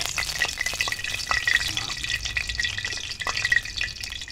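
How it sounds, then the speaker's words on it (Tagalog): Spaghetti ingredients sautéing in a pan over an outdoor cooking fire, a busy crackling sizzle with frequent spatters and occasional stirring clinks, close and steady with no voices. "Igisan natin ang mga ingredients ng ating spaghetti ng tita."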